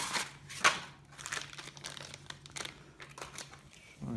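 Someone handles the paper wrapper inside a pack of Tangiers Kashmir Cherry hookah tobacco, and it gives close, dry crinkles and rustles in irregular bursts, with a steady low hum underneath.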